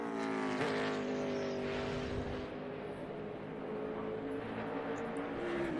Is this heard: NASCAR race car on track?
yes